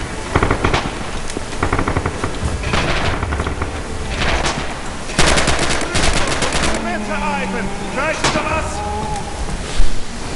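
Bursts of rifle and machine-gun fire ring out through a Red Orchestra 2 Stalingrad battle, loud and repeated with sharp cracks, while someone talks over much of it.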